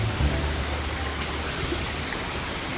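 Rain and overflowing stream water on a valley hiking trail up to the Guman waterfall in Miryang, forming a steady, moderately faint broadband wash with a brief low thump near the start and no talk.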